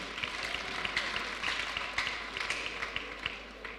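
A youth program audience at an apostolic church applauds a Bible quiz competition winner: steady, fairly faint clapping from many hands, a continuous patter with scattered sharper claps and no one speaking over it.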